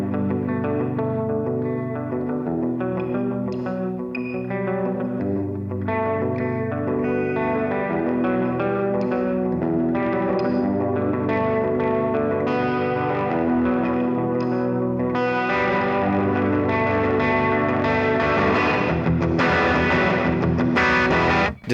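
Overdriven electric guitar through an Effects Bakery Bagel pedal with reverb added, strummed chords and picked notes washing together into a dense, sustained, roomy tone, loud and continuous with no voices.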